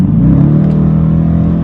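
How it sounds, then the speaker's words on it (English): The engine of a 2019 Dodge Challenger R/T rumbles loudly and close in a steady, deep rev with a throaty low drone and no voices. "So I really like the way the engine sounds"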